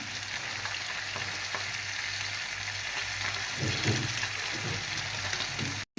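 Continuous, even frying sizzle of onion paste with ginger and garlic paste in fish oil for a cabbage ghonto, a steady crackling hiss throughout before it cuts off abruptly.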